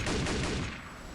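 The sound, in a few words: M4 gun firing from OH-58D Kiowa in DCS World video game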